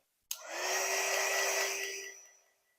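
A hair dryer blowing on chalk paint switches on with a click, then gives a steady loud whooshing hum for about two seconds before winding down.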